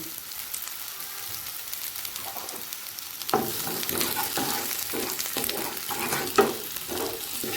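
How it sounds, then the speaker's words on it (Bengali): Potatoes fry in hot oil with salt and turmeric, a steady broadband sizzle that grows louder partway through, broken by spoon clinks and stirring scrapes, with no talking. "আলুটা হালকা লাল করে ভাজা হয়ে গেছে"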